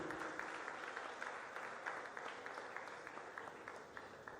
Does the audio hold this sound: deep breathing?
no